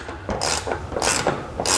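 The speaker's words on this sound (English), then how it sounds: "we're going to run the jam nut down now" A wrench tightens a jam nut on a go-kart, giving three bright ratcheting bursts with softer metallic clicking between them, close and fairly loud with no talk.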